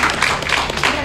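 Brief scattered audience clapping at a fashion talk, a few quick hand claps heard close and fairly loud over about a second.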